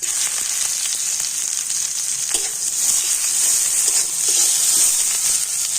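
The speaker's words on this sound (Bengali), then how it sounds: "ভালো মতো গরম হয়ে গিয়েছে তেলের মধ্যে দিয়ে দেব গোটা জিরে দিয়ে দিচ্ছি পেঁয়াজ" Whole cumin seeds and onion fry in hot oil with a steady, bright sizzle and crackle, close by, occasionally stirred, with no talking.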